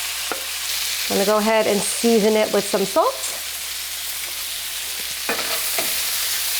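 Cherry tomatoes and garlic frying in a pan for Tuscan shrimp give a soft, steady sizzle that runs under a voice talking through most of the stretch.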